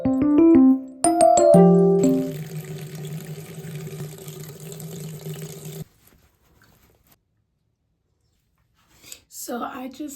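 Tap water runs steadily into a bathroom sink for several seconds while someone wets their face, following a few bright musical notes, then stops; a voice speaks briefly near the end.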